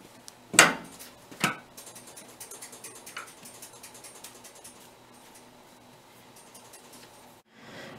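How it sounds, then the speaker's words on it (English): A Doyon D20 hydraulic dough divider presses a mass of bulk fermented dough, giving two sharp mechanical clunks followed by a steady whirring hum and faint ratcheting clicks, ending in a brief pause and renewed rattle. "The machine really does all of the hard labor for us, pressing the dough flat and evenly."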